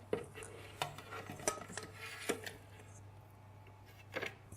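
Several soft clattering thumps as vegetable chunks are tipped into a blender jug, scattered irregularly over a few seconds against a low steady hum.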